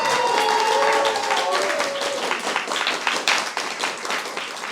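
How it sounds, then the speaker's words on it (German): A crowd applauds, dense clapping at first with some cheering, then thinning into scattered, uneven claps. "Begrüßt mit mir mit einem tosenden Applaus"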